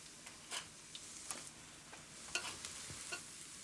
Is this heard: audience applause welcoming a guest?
no